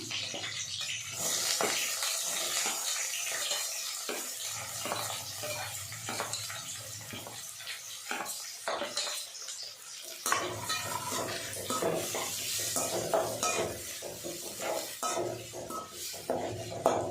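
Onions fry with green chillies for a dried-fish thokku, heard as a soft sizzle under repeated clinks and scrapes of a utensil stirring against the pan at close range.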